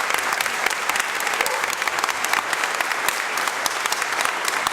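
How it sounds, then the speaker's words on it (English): Steady applause fills a hall at an inauguration ceremony, many hands clapping continuously with crisp individual claps standing out, fairly close and even throughout. "Let's give them a round of applause"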